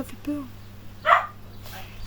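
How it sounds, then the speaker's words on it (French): A neighbour's dog barks in a home setting, with a couple of short, sharp barks plus a faint whimpering yip heard near and alone against a quiet hum. "il y a le chien du voisin qui aboie"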